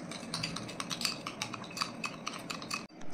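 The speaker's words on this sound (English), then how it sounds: "I've mixed the sugar with the lemon juice" A spoon stirs sugar into lemon juice, giving a quick run of light metallic clinks and scrapes against the bowl at close range, with no talking.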